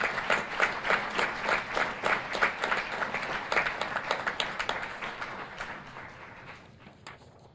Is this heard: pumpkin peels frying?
no